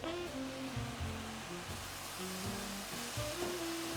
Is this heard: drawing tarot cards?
no